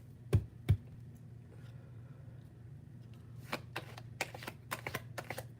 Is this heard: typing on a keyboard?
yes